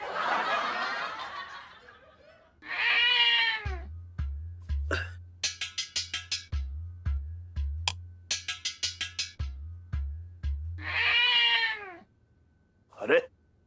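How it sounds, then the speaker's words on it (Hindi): A cat meows several times in drawn-out, wavering cries. Rhythmic thumping beats and bursts of laughter-like voices come in between the meows. "अरे ये तो बिल्ली है"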